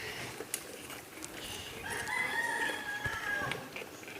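A rooster crows once in the middle, fairly distant, over soft outdoor background noise with faint clucks.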